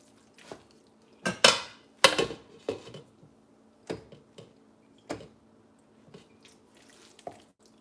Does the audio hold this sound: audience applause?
no